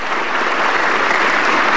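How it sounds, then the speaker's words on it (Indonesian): Studio audience at an Indonesian talk show bursting into dense, loud applause, a steady wash of many hands clapping with no talk over it. "Kita kasih tepuk tangan."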